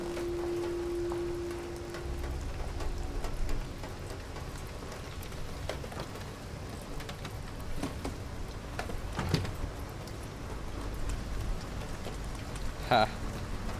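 Steady rain falls in the video game Detroit: Become Human, a constant pattering hiss with a brief tone at the start and a sharp sound near the end, while a person talks over it.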